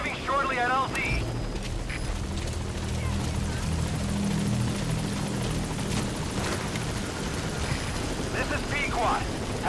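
A support helicopter arriving in Metal Gear Solid V: The Phantom Pain, a loud continuous rotor roar that fills the clip with a steady throbbing rumble while brief voices come through over it.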